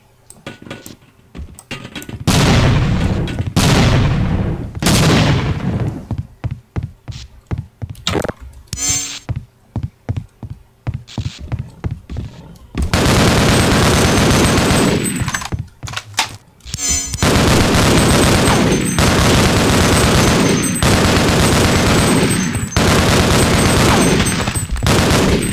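Grenade explosions and bursts of gunfire in Half-Life: Opposing Force, loud and close, with sharp shots in the opening half and a long sustained roar of blasts and firing through the second half.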